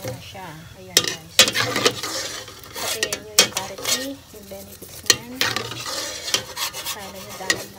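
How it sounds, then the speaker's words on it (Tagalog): Leaves frying in a pan, stirred until crisp, with repeated metallic clinks and scrapes of a utensil against the pan over a low sizzle, while people talk nearby. "Rinig-rinig na yung tunog ng dahon."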